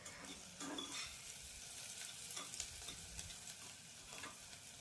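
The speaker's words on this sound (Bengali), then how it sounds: "তো পেঁয়াজটাকে একটু ভেজে নিচ্ছি, নেড়ে চেড়ে নেব ভালো করে।" Onions fry in a pressure cooker pot while being stirred, a faint steady sizzle with soft scraping strokes of a spoon every second or so, close but quiet, no talking.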